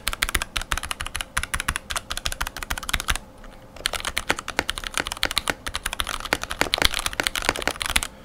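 Close, steady typing on a mechanical keyboard whose switches are both spray-lubed and tub-lubed, giving a crisp, rapid clatter of keystrokes with one short pause around three seconds, heard alone without voices.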